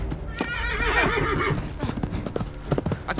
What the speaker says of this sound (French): Cheval de Marcelin!